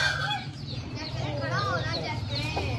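Shamo rooster clucking and crowing among other fowl in a farm pen, close and fairly faint chicken calls running steadily under nearby talk.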